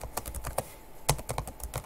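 Typing a network address on a computer keyboard, a short burst of close, crisp key taps in uneven rhythm with one louder stroke midway, no talk.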